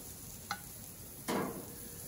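Steaks cooking on a Char-Broil infrared grill give off a soft steady sizzle, broken by a brief crackle and then a louder burst of hissing spatter.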